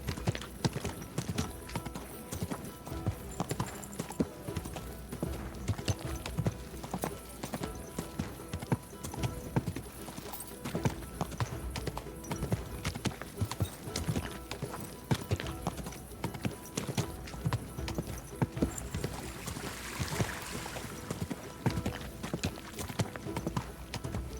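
A horse's hooves clip-clop in a steady walking rhythm in the video game Kingdom Come: Deliverance 2, fairly quiet and continuous, with game ambience underneath.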